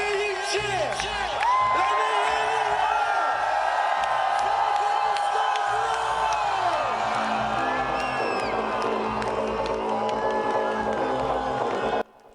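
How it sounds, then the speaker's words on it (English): A huge festival crowd at Glastonbury cheers and whoops for Orbital, a loud sustained roar of many voices with shouts rising above it, continuing until it cuts off abruptly at the end. "Let me hear you cheer."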